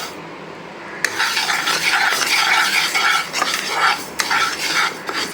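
Rice dry-roasts in a pan until golden brown, stirred with a continuous close-up scraping and rattling, with no voices.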